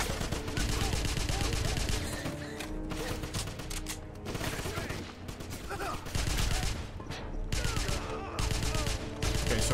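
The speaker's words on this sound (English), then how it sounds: "hip firing the MP40 is pretty OP at this point" Sustained MP40 submachine gun fire from the hip in the 2009 Wolfenstein shooter game, loud dense bursts running nearly the whole stretch with mechanical clatter and some game sounds mixed in.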